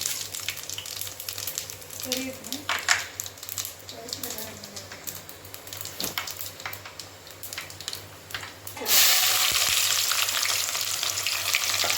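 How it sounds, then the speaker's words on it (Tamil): Fennel and fenugreek seeds fry in hot oil for a South Indian fish curry, a steady loud sizzle with stirring clatter, swelling into a stronger hiss near the end, while a person talks over it. "எண்ணெய் காஞ்சிச்சு சோம்பு வெந்தயம்"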